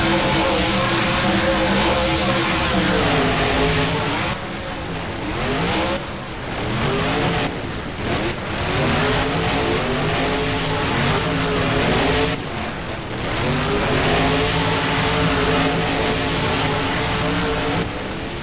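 Monster truck engines roar in BeamNG racing on the Lightningscape track, El Toro Loco against Blue Thunder, a loud continuous drone with rising and falling revs through shifts and accelerations, no voices.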